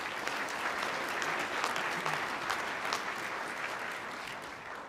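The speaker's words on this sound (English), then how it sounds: "So round of applause for all of you." Sustained audience applause fills a law school commencement hall, a dense steady wash of many hands clapping at even loudness for about five seconds with no voices standing out.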